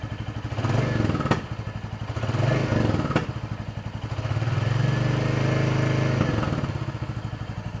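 A motorcycle engine runs steadily nearby with a low, rumbling throb that swells and eases, plus a couple of sharp clicks.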